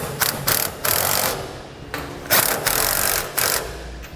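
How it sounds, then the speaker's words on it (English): A 19mm socket wrench ratchets bolts on a B and W heavy-duty trailer hitch receiver on a 2008 Chevrolet, making close, repeated bursts of rapid clicking separated by short pauses. "For our 2 forwardmost holes, we're going to be using a 19mm socket"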